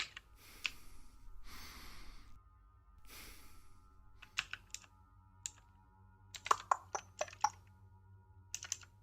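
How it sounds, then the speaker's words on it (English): The low-stamina breathing effect from the video game Cataclysm: Dark Days Ahead plays as three heavy, airy breaths over the first few seconds. It is followed by scattered, crisp computer keyboard clicks and typing, with no voices. "What's the breathing noise? It means we're low on stamina. It's actually an incredibly annoying sound effect."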